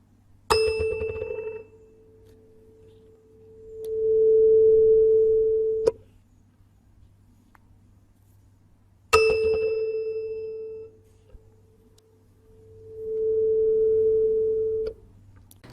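Tuning forks are struck twice, each giving a sharp metallic strike followed by a pure, sustained tone that swells, holds steadily and then cuts off, with quiet pauses between.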